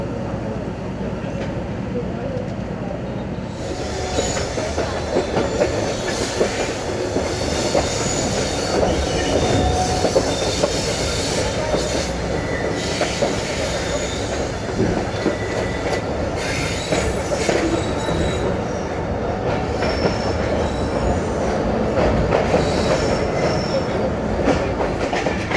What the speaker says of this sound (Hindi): ट्रेन हमारी रावी ब्रिज से गुजर रही है जी